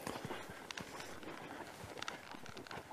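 A horse easing from a jog trot down to a walk under a rider without rein contact: rhythmic hoof clip-clops on firm ground, close and steady, slightly uneven as the pace settles.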